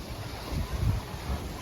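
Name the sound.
strong wind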